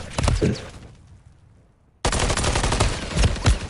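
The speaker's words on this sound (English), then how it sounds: "Oh, nice shots for Blacky, but he's just traded." Gunfire in a competitive shooter match, a burst of shots, a brief lull, then a sustained loud barrage of rapid shots, close and dense.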